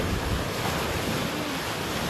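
Sea waves washing onto a beach at high tide, a broad continuous surf wash mixed with wind buffeting the microphone, steady and fairly loud with no voices.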